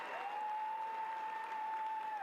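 A home crowd at a women's football match between Manchester United and Aston Villa cheers after a United goal, a distant, steady roar of voices with a whistle-like tone above it, broadcast at low level.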